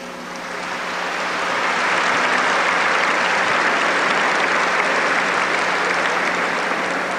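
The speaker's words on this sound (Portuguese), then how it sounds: "you are clapping, but you don't know why" A large audience claps in sustained applause, building over the first couple of seconds and then holding as a dense, loud, steady roar of hands with no voices on top.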